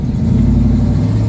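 A 1966 Ford Mustang engine rumbles loud and close as it cruises, with a steady deep drone and a low rhythmic pulse throughout.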